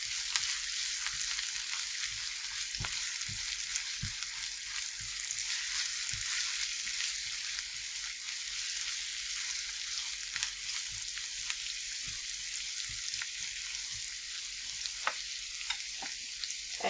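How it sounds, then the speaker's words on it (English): Eggs and spinach frying in a pan with a constant soft sizzle, while a spoon stirs with scattered light taps and scrapes, close and fairly quiet, no speech. "I'm going to give this a stir."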